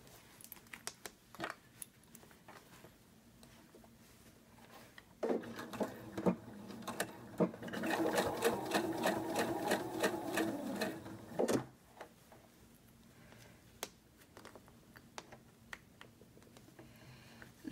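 A sewing machine stitches through a fabric fold with a thick scrap underneath, running in one steady rapid burst for several seconds, framed by quieter handling clicks before and after.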